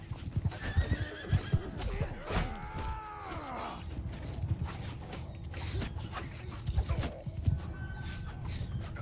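Galloping horse in the video game Mount & Blade 2: Bannerlord, loud close clip-clop hoofbeats with a clear neigh rising and falling near the middle, amid battle clatter.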